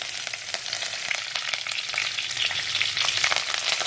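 Curry leaves and cumin seeds crackle and sizzle in hot oil in a clay pot, a steady, dense frying hiss with small sharp pops throughout, close and fairly loud, no voices.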